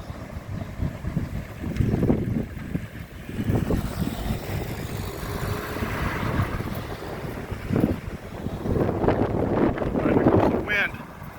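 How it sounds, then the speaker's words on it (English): Wind blowing hard against the microphone in an open outdoor spot where dust is being carried, with loud buffeting gusts rising and falling throughout and some voice-like sounds mixed in. "Wind."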